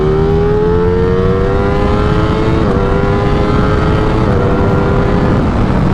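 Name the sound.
Ducati Streetfighter V4 motorcycle accelerating in third gear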